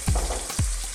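Garlic sizzles in a hot pan with onions for a beef and mushroom stew, a steady close frying hiss broken by two brief louder bursts as pieces drop in.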